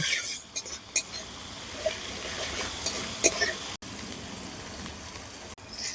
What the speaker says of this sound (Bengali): সব মশলাগুলো এবারে ভালো করে আমি কষিয়ে নেব।